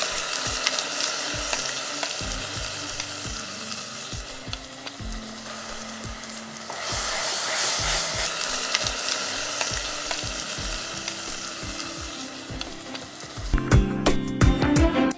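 Ground tomato paste for tomato bath fries in a pan with rhythmic spatula stirring and thuds over a steady sizzle, close by, ending in a brief burst of louder clattering scrapes; nobody talks.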